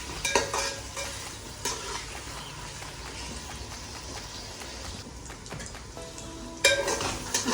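Tomatoes sautéing in a pan for egg biryani: a continuous moderate sizzle with intermittent stirring scrapes and clatters, and a sharper clink near the end, no talk.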